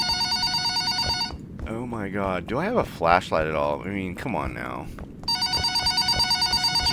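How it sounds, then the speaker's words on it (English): A telephone rings in the Yokai Shop horror video game, its bright repeated trill clear at the start and end while someone talks over the middle stretch. "Where the hell is this phone?"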